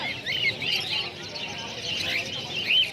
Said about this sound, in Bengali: এগুলো ককাটেল, নিচেরটা রয়েছে বদ্রি।